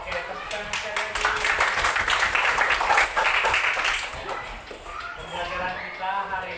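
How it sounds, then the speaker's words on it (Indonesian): A school class claps hands together in a dense, fast burst of many palms, loud and close, mixed with children's voices calling out, easing briefly before picking up again. "Oke, tepuk tangan sekali lagi."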